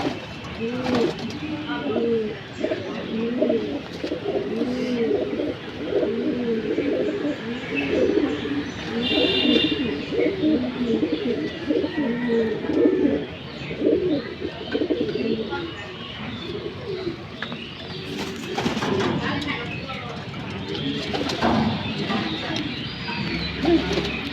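Racing pigeons at a loft in Tangail coo steadily in soft, rolling bursts, with chirps mixed in. Someone talks over them.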